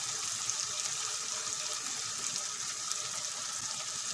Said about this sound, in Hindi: थोड़ा सा पानी डालकर